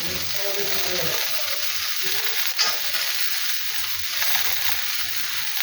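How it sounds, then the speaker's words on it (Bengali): Soybean chunks and potato with turmeric stir-frying in a pan, a steady broadband sizzle running throughout with soft scraping stirs and one brief sharper clink near the middle; no talk. "হলুদ দিলাম, দিয়ে নাড়াচাড়া করলাম"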